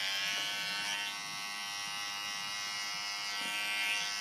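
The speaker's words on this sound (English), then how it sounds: "Now I'm going to go back in and detail a little bit using my cordless 673s." Cordless 673 hair clippers buzz steadily while detailing a man's haircut, a close, continuous electric hum with slight shifts in pitch as the blades move through hair. No voices are heard.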